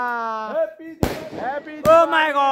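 Diwali rocket firecrackers go off in two sharp, loud bangs close by, with whistling tones and excited voices around them.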